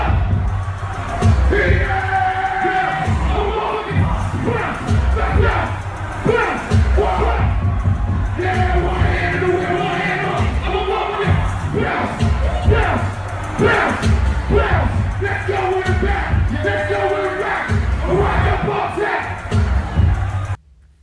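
A dense concert crowd at a show yells and chants in rhythmic surges over pounding bass-heavy music, loud and continuous throughout.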